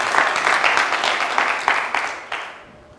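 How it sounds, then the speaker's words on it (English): Crowd applause at a secondary schools quiz competition for a team, a steady burst of clapping that starts full and slowly tapers off near the end. "Let's give a huge round of applause to Ntare School."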